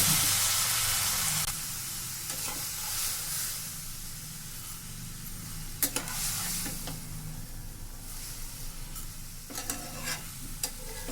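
Zarda rice cooking in a pan as a little water is poured in, setting off a loud hissing sizzle and steam burst at the start that settles into a quieter bubbling fry, punctuated by a few sharp spoon scrapes and clinks.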